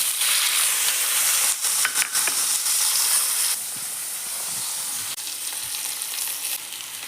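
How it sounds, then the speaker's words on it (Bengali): Nigella seeds (black cumin) dropped into hot oil in a home kitchen, giving a loud, steady close sizzle and hiss that eases slightly partway through, with no talking. "এখন আমি ফোড়নে দেব কালো জিরে। এখন আমি এইগুলো তেলে দিয়ে দেব।"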